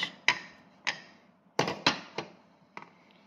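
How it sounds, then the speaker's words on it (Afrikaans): A meat-grinder part tamps packed meat down into a jar for homemade bully beef, giving six or seven sharp, close knocks at an irregular pace with quiet pauses between them. "Vat is hierdie ding van die vleiswiel en stamp die vleis lekker vas."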